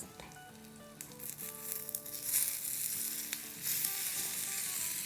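Tomatoes hit a hot pan with browned ingredients and sizzle softly, the crackle swelling after a moment and holding steady, with faint background music and no speech.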